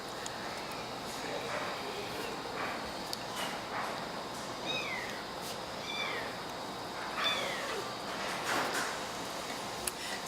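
A hungry kitten meows angrily while failing to latch during bottle feeding, giving several short, thin cries spread through the clip over quiet room noise, with brief soft talk nearby.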